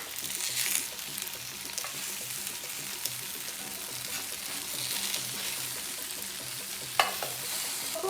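Grilled chilli tofu sizzles steadily in a hot pan, a soft continuous frying hiss with occasional stirring scrapes and a brief clatter near the end, no voices.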